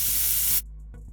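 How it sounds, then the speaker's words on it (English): Chopped vegetables sizzle in butter in a hot pan over medium-high heat, a loud, bright hiss that cuts off abruptly partway through, leaving near silence with a faint clink. "We saute the vegetables, and you want to do this on a medium to a medium-high heat"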